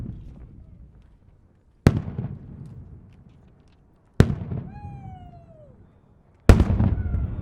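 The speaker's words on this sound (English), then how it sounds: "This is a 4-inch shell by Wiley. It's a 2 or maybe 3 break of stars with a bottom shot." Three sharp, loud firework bursts from a 4-inch multi-break shell with a bottom shot, each followed by a crackling, fading tail, with a faint whistling tone after the second report.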